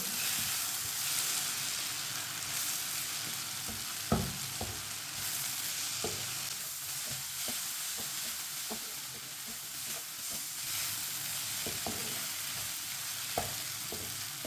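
Spices sizzle and fry steadily in a hot pan for stuffed karela, with occasional sharp stirring clicks and scrapes over a continuous close hiss and no talking.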